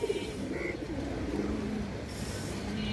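A female pigeon coos softly in a loft, low throaty murmurs over a steady background hum.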